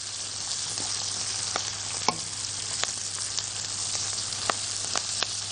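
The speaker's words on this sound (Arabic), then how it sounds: "بدا البصل يدبل والطعم بتاعه الني يتلاشى بقى" Onions fry in a pan with tomato sauce and fresh green coriander, making a dense, even sizzle with sharp pops and crackles, close and steady, with no voices.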